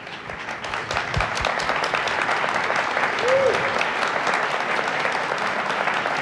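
Audience applause at a new-media panel discussion, a dense, steady burst of many hands clapping that carries strongly through the whole stretch with no speech over it.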